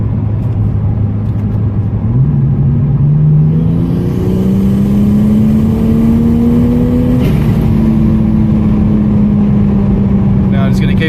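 A turbocharged Barra engine in a BA Falcon revs up close, its drone climbing in pitch in two steps and holding high as the turbo spools, with a voice talking partly over it.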